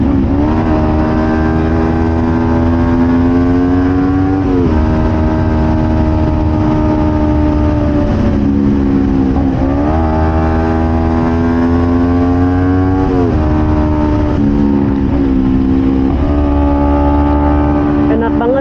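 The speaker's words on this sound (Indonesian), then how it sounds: "Crossfit Python ini suaranya benar-benar ciri khas teman-teman, mempunyai ciri khas." A Kawasaki Ninja 250 FI with a Prospeed Crossfit Python aftermarket exhaust and a deep, rumbling note is revved repeatedly, the loud engine note swelling and dropping in several short pulls, with a voice faintly beneath.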